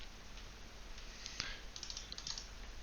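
Quiet, quick keystrokes tap on a computer keyboard in an irregular burst, one click standing out slightly louder, with no voices.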